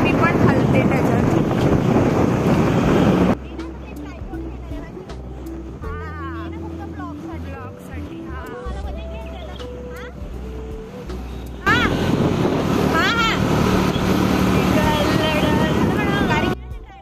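Strong wind gusts hit the microphone in loud bursts at the start and end, with quieter stretches between where talk and faint background sounds come through.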